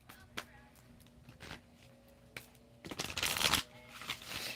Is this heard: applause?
no